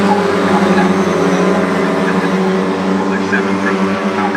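Classic sports race cars roar continuously around the Oulton Park circuit, a yellow Lotus Europa among them, with engine drone loud and sustained throughout while a commentator talks over the noise.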